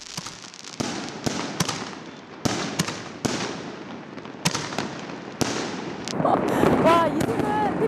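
Firecrackers and fireworks bursting at a Miao New Year celebration in Yunnan, a loud irregular series of sharp close bangs followed by dense crackling, with voices calling out near the end.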